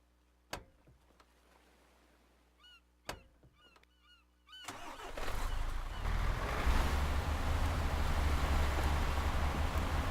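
Vehicle engine driving in the video game ArmA 3, a steady broadband drone that rises after a few sharp clicks and quiet stretches, then holds loud and continuous to the end.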